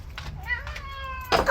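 A house cat gives a couple of short, tonal meows close by, with a person speaking around them in a quiet room.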